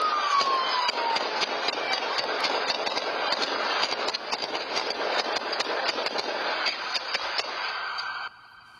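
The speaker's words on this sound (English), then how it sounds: "one that sounds like a high-powered rifle and then a regular handgun" Gunfire during a police chase in Houston, with shots from a high-powered rifle and a handgun: rapid, repeated sharp bangs over a continuous roar of engine noise and a siren, steady and loud throughout.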